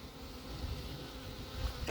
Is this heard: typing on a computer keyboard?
no